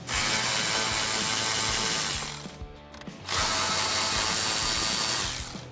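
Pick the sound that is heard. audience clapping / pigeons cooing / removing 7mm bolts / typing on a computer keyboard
removing 7mm bolts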